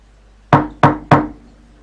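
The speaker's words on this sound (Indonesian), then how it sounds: "mendengar ketukan pintu" Three firm knocks on a house door, closely spaced and loud, with a slight gap before the third, heard alone in a quiet room.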